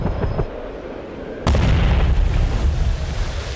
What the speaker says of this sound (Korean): 헬리콥터에서 다이너마이트가 떨어지면서 폭발을 일으켰죠